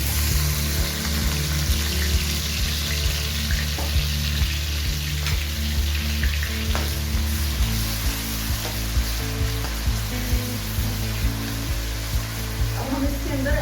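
One medium onion frying in hot oil gives a loud, steady, close sizzle that carries on for the whole stretch, with a low engine-like hum underneath that shifts partway through.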